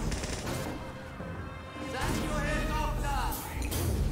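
Syringe gun firing in Team Fortress 2, a rapid stream of gunfire-like bursts layered with game effects and a voice talking over the action.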